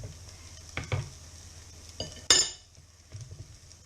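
A utensil scrapes and clinks in a pan, with soft sizzling underneath and one sharper metallic clatter midway.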